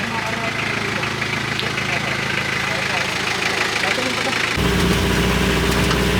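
A car engine idles and runs steadily at the start of a safari ride in Bali, a continuous low rumble that thickens and grows louder near the end, with people talking over it.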